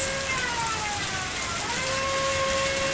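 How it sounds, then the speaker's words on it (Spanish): A prison alarm siren in the video game Lucky Dog 1 + Bad Egg wails, sweeping up and down in pitch, sustained over a constant hiss like falling rain. "el sonido de la sirena se escucha"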